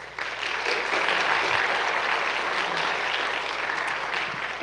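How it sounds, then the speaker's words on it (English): An audience at a university thesis competition gives a burst of steady applause that holds for several seconds, dense and even throughout. "So let's give them all a round of applause."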